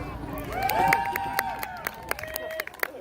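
Crowd at a Great Lakes timber show log-rolling event cheering and clapping for a competitor, a lively burst of voices and applause with whoops rising over a steady murmur.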